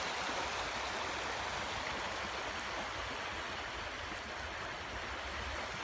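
A cold river flows steadily beside a riverside island campsite, a loud close continuous rushing wash of water with no pauses.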